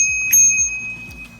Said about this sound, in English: you also get an included bell as well.